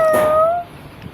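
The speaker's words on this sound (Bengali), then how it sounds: "ওই যে এই বিড়াল ধর" A cat lets out one short, clear meow at close range, a drawn-out tonal call lasting about half a second and then fading into quiet room sound.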